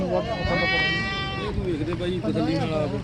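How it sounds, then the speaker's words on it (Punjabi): A goat bleats in a long wavering call, followed by shorter bleats, close by with people talking over it. "ਆ ਬੱਕਰੀ ਲੈ ਕੇ ਦਿੱਤੀ ਜੱਗੀ ਨੇ"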